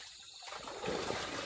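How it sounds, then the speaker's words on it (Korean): Water trickling steadily in a stream at a valley reservoir fishing spot, a soft continuous babble that swells slightly halfway through, with no voices over it. "아이고 물소리 봐라."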